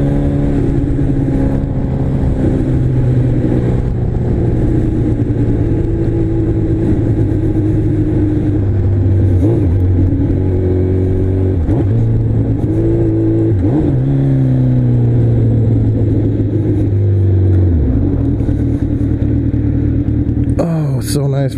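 Kawasaki Z1000 motorcycle riding around the block on a cold day, a loud continuous engine drone with shifting pitch as the revs rise and fall through gear changes, heard close with wind noise.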